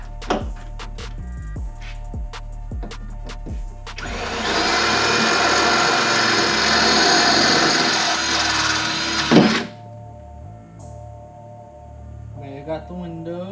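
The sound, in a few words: power drill drilling in a BMW E36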